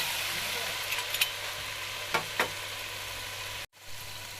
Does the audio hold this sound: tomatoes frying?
yes